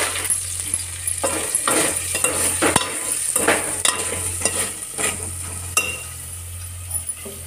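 Chili powder and salt being stirred into a simmering drumstick curry, a steady wet scraping and stirring with repeated spoon strokes over a continuous low sizzle, close and moderately loud, no voices.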